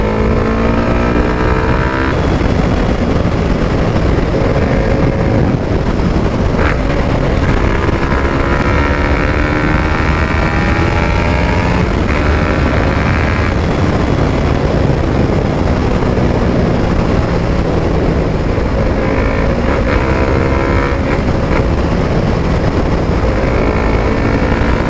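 A TVS Apache RR310 motorcycle fitted with a full system exhaust roars loud and close at speed, its engine droning steadily with rising and falling revs through gear changes for the whole stretch.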